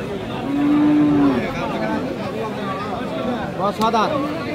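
Cows and calves moo at a busy cattle market: one long low moo stands out near the start, then fainter lowing sounds amid constant crowd chatter and bargaining voices.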